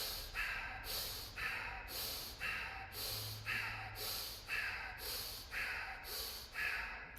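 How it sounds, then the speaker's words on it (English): Bhastrika yoga breathing, with forceful paired inhales and exhales pushed through the nose in a steady, even rhythm, about one cycle a second, close and loud. "I'm going to do the same type of breathing, but it's going to be on the exhale and the inhale."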